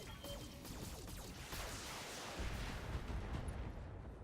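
Mech weapons in the BattleTech game fire and slam into a target: a dense, continuous barrage of booming blasts and crashing impacts, heavy in the low end, played at a moderate, somewhat subdued level with no talk.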